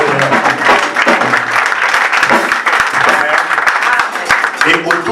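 A congregation at a church wedding applauds loudly and continuously, a dense sustained crowd clapping that fills the space. Voices and cheering are mixed in throughout.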